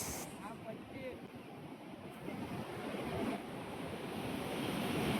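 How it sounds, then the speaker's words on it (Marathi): Rough ocean surf rolls in as a steady, broad wash of noise during sea fishing, growing slightly louder toward the end, with wind buffeting the microphone. "एवढ्या जोरात लाटा पडतात"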